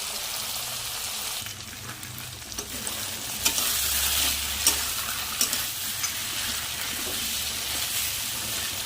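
Spices stirred and frying in a pan, a steady close sizzle with scraping stir strokes and occasional sharp clicks of a utensil against the pan, no talking.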